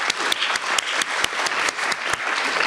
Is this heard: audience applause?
yes